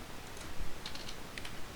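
Quiet keyboard typing, a few scattered soft key clicks in small bursts against a faint background hum, no talking.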